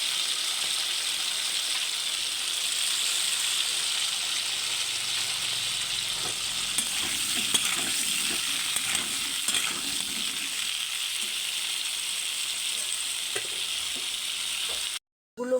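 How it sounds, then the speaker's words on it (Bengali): Salted potatoes fry in hot oil until browned, giving a steady, close sizzle with occasional stirring scrapes and no talk over it. "আলুগুলো ভালো করে লাল লাল করে ভেজে নেব।"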